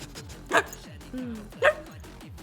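A dog gives two sharp barks about a second apart, close and clear, with whining and soft vocal sounds in between.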